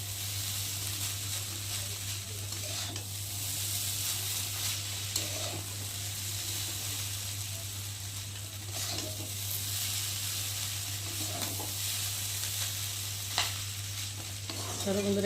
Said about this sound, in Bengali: চলো বন্ধুরা একটু ভালো করে নেড়ে নিই